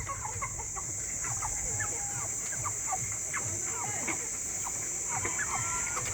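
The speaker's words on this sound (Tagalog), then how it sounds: "Ay, may mga manok kayo?" A flock of chickens clucks busily nearby around a house in Sual, Pangasinan, short repeated clucks scattered over a steady hum of insects, with a person's voice briefly heard.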